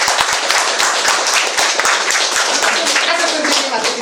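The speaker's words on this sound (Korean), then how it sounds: "박수를 한번 치고 싶습니다" An audience claps together at a lecture on death and eternal life, a dense continuous burst of close hand claps filling the whole stretch with no break.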